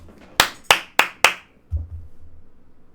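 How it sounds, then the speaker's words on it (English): Four sharp, loud claps in an even rhythm, followed by a low thud and a fading rumble. "Clap it up, bro."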